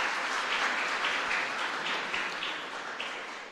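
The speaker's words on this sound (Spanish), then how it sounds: "Un fuerte aplauso para el Señor entonces." A congregation applauds in a chapel during a novena for San Luis Gonzaga, with dense, sustained clapping from many hands that slowly fades toward the end.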